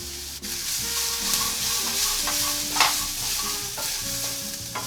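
Sausage and paprika fry in a pan for shakshuka, a loud close sizzle with steady stirring and scraping throughout, no voices.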